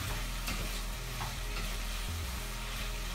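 Potatoes and carrots being stirred into a frying mixture in a pan, a steady soft sizzle with scraping stir strokes, continuous and close, no voices.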